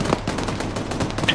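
Rapid gunfire in Arma 3 during a firefight near a village in Takistan, a dense burst of shots crackling close and loud for a moment, with faint voices underneath.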